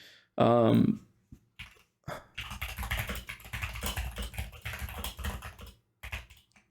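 Notes are typed on a computer keyboard, a close, rapid run of key clatter lasting several seconds. A brief burst of talk comes before it starts.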